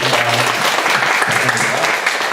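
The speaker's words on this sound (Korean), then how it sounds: "우리 하나님께 영광의 박수 드리겠습니다" A church congregation bursts into loud, close applause to glorify God after a prayer, a dense burst of clapping with voices mixed in throughout its short span.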